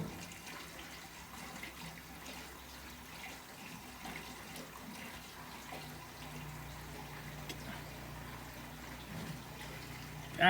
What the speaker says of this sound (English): Putting gas in.